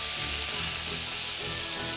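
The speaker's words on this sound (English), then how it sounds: "They'll sizzle when they're going." Bacon-wrapped sausages sizzle and spit steadily in a hot pan, close and continuous with a hissy, crackling texture.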